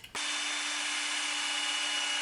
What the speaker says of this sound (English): I'm going to have to drill and tap through that box